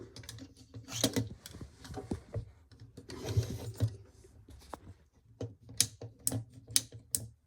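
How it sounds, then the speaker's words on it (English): A plastic action figure's ratchet joint being worked, giving bursts of quick sharp clicks in irregular runs with small handling rustles between them, close and without speech. "Solid plastic. Good ratchet joint. Clicky."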